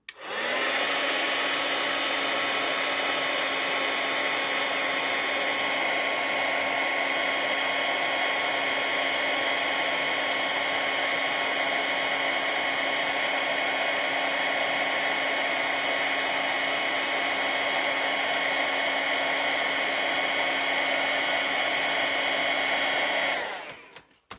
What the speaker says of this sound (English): Put this away, bring in my heat tool